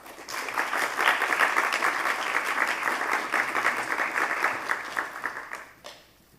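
An audience applauds warmly to welcome a speaker at a design talk, a dense, steady clatter of many hands that holds for several seconds, then thins and fades away near the end.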